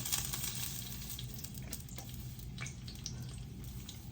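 Mustard seeds, cumin, fenugreek and dried chilli fry in hot oil with a steady, close, crackling sizzle that runs throughout without pause.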